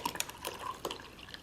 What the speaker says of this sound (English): pour in my matcha